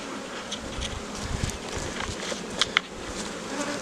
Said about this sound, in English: And they're all bearding on the front because they're all crowded in there.